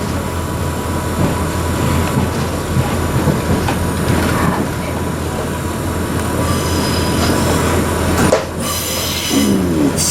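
A train unit rolls slowly into the platform, its wheels squealing on the rails above a constant rumble, with a sharper high screech near the end as it comes in.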